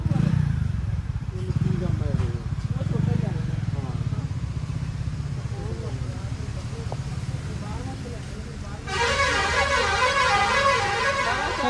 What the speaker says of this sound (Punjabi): ਇੱਥੇ ਕੀ ਖੜਾ ਹੈ ਜਿਹੜਾ ਇੰਨੇ ਹੌਰਨ ਵੱਜ ਰਹੇ ਨੇ